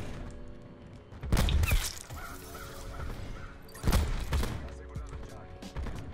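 Gunfire in a Portuguese-language competitive shooter match, with two loud bursts of shots and one teammate firing on another, set against steady game ambience and background music while players talk.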